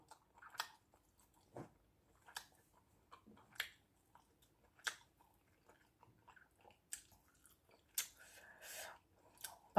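Chewing and biting on a mouthful of chicken laab with neem vegetables: close, moist crunches and squishy bites that come in scattered bursts over quiet pauses.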